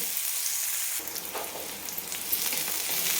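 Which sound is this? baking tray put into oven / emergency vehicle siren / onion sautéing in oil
onion sautéing in oil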